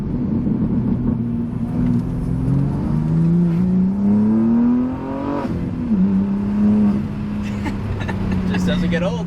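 A tuned BMW G80 M3 accelerating hard, its engine note climbing and dropping through gear changes in a loud, continuous roar heard from inside the car, with a voice speaking over it.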